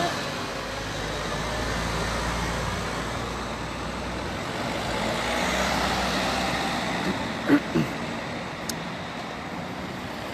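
Steady road traffic rolls past on the Place Mancini town square, cars and heavier vehicles forming a continuous moderate wash, with a few brief knocks and a short high whine near the end.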